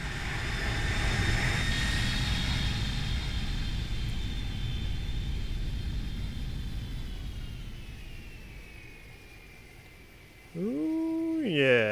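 A ToLiss A319 airliner in a flight simulator game touching down, heard as a long steady engine roar and rumble that slowly fades. A brief tonal sound cuts in near the end.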